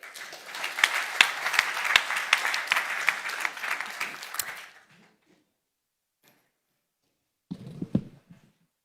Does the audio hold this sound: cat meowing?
no